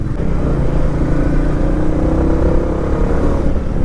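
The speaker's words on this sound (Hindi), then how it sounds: "इसका जो एग्जॉस्ट साउंड है ना वो मुझे बहुत पसंद है" A Scram motorcycle engine idles with a steady, low, throbbing exhaust note, loud and close throughout, with no talk over it.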